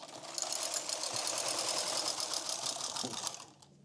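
A knitting machine carriage running across the needle bed during cast-on for circular knitting, a dense steady mechanical clatter with rapid rhythmic ticking, close and continuous for about three seconds before stopping abruptly.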